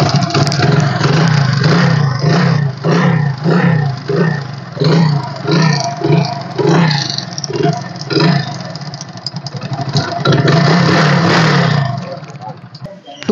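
A Hero Splendor Pro kick-start motorcycle with alloy wheels revs in loud rhythmic bursts, its engine note rising and falling repeatedly near the listener, settling briefly, then revving again.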